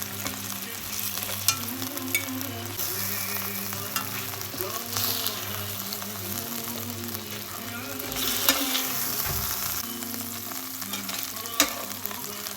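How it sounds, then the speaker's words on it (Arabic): Onion frying in oil in the same pan used for chicken, a steady close sizzle with stirring scrapes running throughout, with no talking. "راح اخلي البصل هذا الشكل واحمسه بنفس الزيت وحتى ياخذ النكهة مالت الدجاج"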